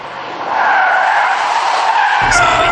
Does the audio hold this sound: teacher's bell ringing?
no